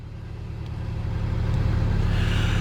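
A 2017 Mercedes-Benz C200 SE engine catching and settling into a steady, smooth idle hum, close and moderately loud, with no voices.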